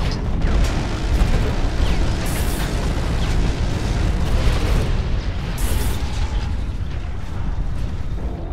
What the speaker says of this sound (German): Und er explodiert dann.